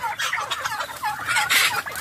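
Turkeys gobble in rapid, warbling bursts close by, repeating several times with no talking over them.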